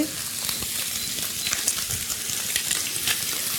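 Squid frying with olive oil and a little garlic over maximum heat gives a dense, even, crackling sizzle that stays steady throughout, close and alone with no talk.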